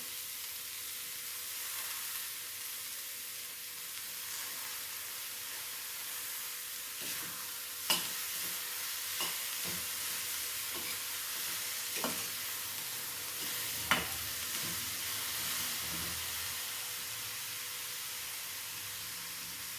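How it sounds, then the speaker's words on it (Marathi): Cabbage curry with potato sautéing in a pan gives a steady soft sizzle, with scattered brief scraping clicks of stirring spread through the middle of the stretch; no voices. "छानपैकी आपण आता परतून घेतली"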